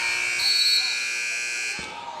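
Electronic buzzer ending the first half of a girls high school basketball game in a gym: one long, loud, steady harsh tone lasting nearly two seconds, with crowd noise and a commentator speaking.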